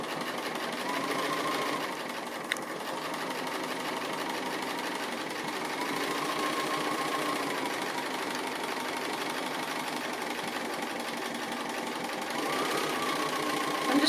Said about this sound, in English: I'm just free motion stitching.